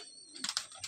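Pigeons in a loft at Basirhat, Old Nasal Wala Madrasi and Malwai breeds, give a soft, low coo followed by a few brief rustling bursts, close but quiet, with no talking.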